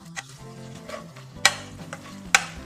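Schezwan chutney stirred with tomato ketchup and soy sauce, a spoon scraping the pan in soft repeated strokes with a faint sizzle underneath and two sharper clinks standing out.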